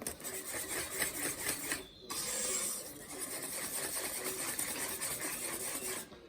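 A whisk works through chocolate fondant batter in a bowl, producing a fast, steady scraping and rubbing rhythm that pauses briefly once before resuming at close range.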